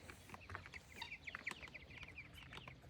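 Hens cluck and chirp steadily near a small chicken tractor on a farm, a busy overlapping chatter of short calls with no talking.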